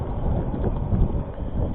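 Muffled low rumble of wind hitting the microphone beside the Nakuru–Eldoret Highway in Kenya, steady and dull for a couple of seconds.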